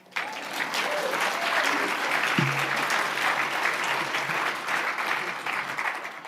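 A conference audience bursts into steady applause that starts abruptly and carries on for several seconds, a dense clatter of many hands clapping.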